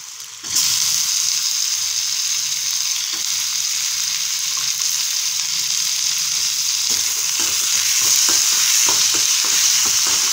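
Tomatoes sautéing in oil in a pan after softened onions, for a spicy Tamil-style chicken gravy; a loud, continuous sizzle with scattered spatula scrapes and stirring clicks, close up and with no talking.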